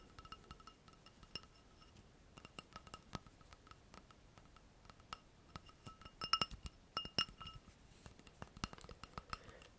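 A glass of cool water gives soft, close clinks and taps in a quiet ASMR setting, scattered irregular glassy ticks, sometimes in quick clusters, faint against near silence with no talking.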